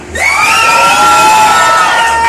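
Children and a crowd shout together at a graduation party with a clown show, a loud, sustained collective yell lasting a couple of seconds with no talking over it.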